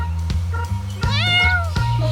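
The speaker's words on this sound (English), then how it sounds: "Watch out for the cat! Meow. Meow." A cat on the Isle of Man meows several times up close over a low, steady background hum.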